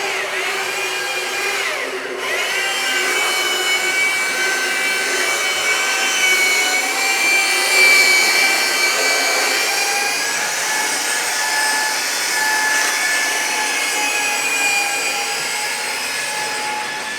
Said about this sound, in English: and he is sanding